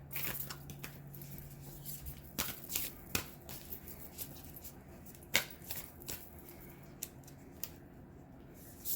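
Oracle cards handled and shuffled by hand, irregular papery slides, flicks and taps close up in a quiet room, with a brief low hum near the start.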